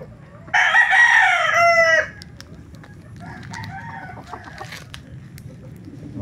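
A chicken gives a loud burst of harsh, crowing-like calls up close for a second or two, then quieter scattered clucks over low background noise.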